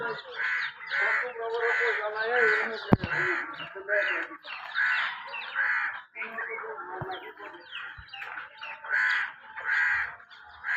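Crows caw repeatedly over a tin roof, harsh calls overlapping in near-continuous bursts with brief pauses, fairly close, and a few sharp knocks on the metal.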